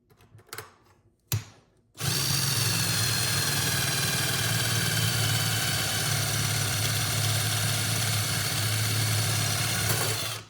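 A drill bit bores through hard stainless steel in a steady, loud, continuous grinding drone lasting about eight seconds, after a few brief knocks at the start.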